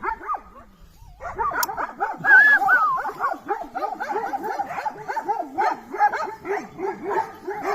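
Several stray dogs at an abandoned house bark, yip and whimper in an excited, continuous run of calls, close by, with a voice briefly mixed in.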